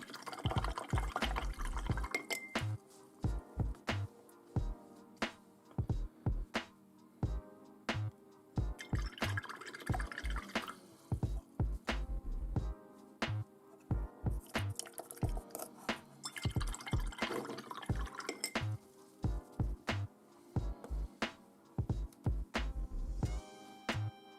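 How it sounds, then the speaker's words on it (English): A miniature-painting brush with paint stuck around the ferrule is rinsed in water, giving steady dripping, sloshing and tapping sounds throughout, close by with no talk. "Just going to give that a rinse off, see if it comes out."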